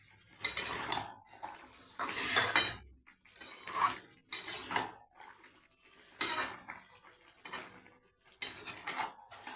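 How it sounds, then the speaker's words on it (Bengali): A puti fish and mixed vegetable curry is stirred in a pan, with bursts of metal spoon scraping and clinking against the pan, separated by short quiet pauses. "দিয়ে ভালো করে নাড়াচাড়া করব।"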